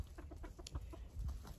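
Rhode Island Red chickens cluck softly in a run of short, quiet calls, a few close clucks scattered over low background noise.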